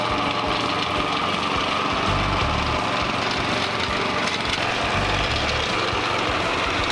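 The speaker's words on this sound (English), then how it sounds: "I thought the engine would struggle with that, but it is doing it with ease." A Swardman Edwin 2.0 verticutter's engine runs at its lowest cutting depth, a steady, loud, close mechanical drone with a rough low rumble, holding constant throughout with no talk.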